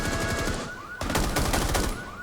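Rapid automatic gunfire from the video game Rainbow Six close beta, loud and continuous with a brief break near the one-second mark, then resuming as sustained bursts.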